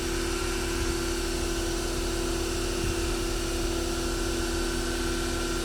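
Septic system pump running steadily, a continuous mechanical hum with a strong tonal whine, close and unbroken throughout with no voices.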